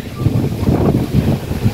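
Wind blowing beside an outdoor swimming pool at Auberge Discovery Bay, a gusty low rumble buffeting the microphone in uneven pulses, close and fairly loud with no clear voices.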